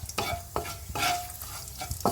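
Whole spices fry in oil in a pan where potatoes cook with turmeric, for cabbage with fish head, as a spatula scrapes and stirs in sharp strokes about every half second over a soft, steady sizzle. No one speaks.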